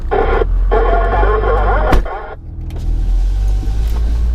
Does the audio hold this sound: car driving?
yes